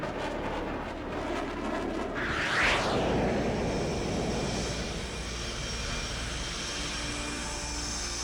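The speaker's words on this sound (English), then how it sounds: "Polaris flight, this is Bulldog. You're clear for takeoff." A jet aircraft takes off in the H.A.W.X. 2 flight game, a steady engine roar swelling with a rising whoosh as it accelerates, then settling into a sustained distant rumble.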